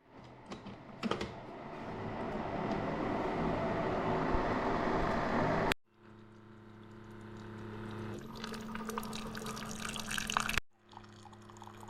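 A Keurig K-Latte coffee maker brewing vinegar through its heating element during descaling, with a steady dripping, pouring flow and hum nearby that cuts off twice and resumes, no talking.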